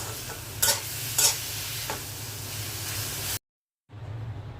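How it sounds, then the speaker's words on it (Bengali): Red amaranth greens frying in a pan give a loud, steady close sizzle marked by a few sharp stirring scrapes, then a short silent break before the sizzle returns. "লাল শাক ভাজা হয়ে গেছে।"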